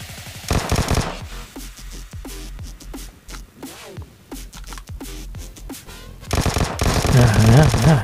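Bursts of automatic gunfire from the mobile shooter game PUBG, loud rapid shots opening and closing the stretch with scattered single shots and game effects between, a voice briefly heard.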